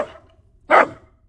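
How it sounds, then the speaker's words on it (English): An AI-generated dog bark sound effect gives one short, sharp bark, preceded by a fainter yelp-like tail, with quiet gaps around it. "so it saw a dog, so it added barking sounds"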